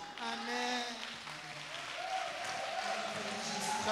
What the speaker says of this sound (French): On applaudit très fort pour Jésus.